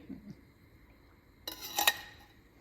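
A spoonful of oil goes into a pan heating on a stove, heard as a short metallic clink and scrape of the spoon against the pan followed by a brief, soft sizzle, close by in a quiet kitchen.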